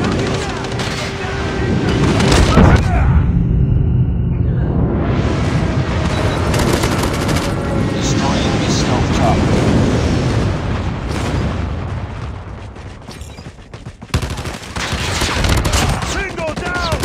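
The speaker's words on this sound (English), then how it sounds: "Enemy airstrike incoming." Airstrike explosions and heavy gunfire in a Call of Duty Mobile match, a loud, continuous wash of booms and rapid shots that stays dense for most of the stretch before easing briefly and surging again near the end.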